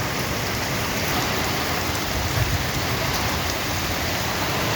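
Heavy rain pours down steadily during a thunderstorm, a dense, unbroken hiss of drops drumming on surfaces near a shed, with no voices.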